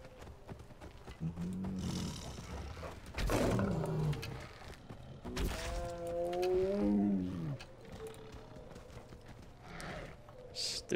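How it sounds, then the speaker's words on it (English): A cave lion in the video game Far Cry Primal lets out a loud, rumbling roar midway, rising and falling over a few seconds, amid hoof-like clopping and game ambience. "Cave lion? Okay. Stupid cave lion."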